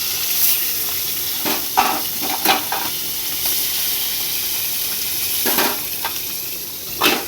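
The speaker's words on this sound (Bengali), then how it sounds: "মাছ ভাজার সময় এখন খুব তেল ছোটে" Fish frying in hot oil in a home kitchen gives a steady sizzle with spitting crackles and several sharper pops, moderately close, with no one talking.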